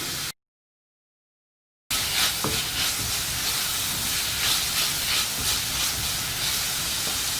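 Steady sizzling hiss of chopped green chillies and onion frying in a pan for broken wheat kichadi, loud and continuous with a few faint clinks, after a brief silent gap.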